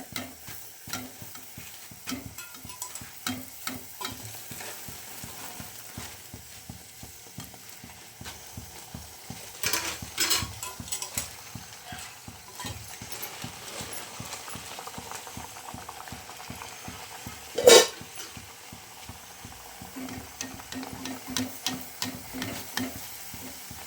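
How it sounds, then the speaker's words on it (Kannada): Kai vada deep-frying in hot oil while more oil is spooned over them: a steady, close crackling sizzle with dense bubbling throughout and one sharp clink near the end. "ಒಂದೊಂದೇ ಈ ಥರ ಬಿಟ್ಕೊಂಡು ಮೇಲ್ಗಡೆ ಎಣ್ಣೆ ಹಾಕಬೇಕು"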